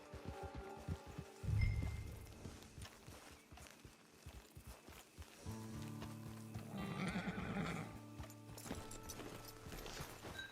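Horse hooves clip-clopping at a walk in the Red Dead Redemption 2 game, a run of steady hoofbeats with a snort or whinny early on, set against layered game music and ambience.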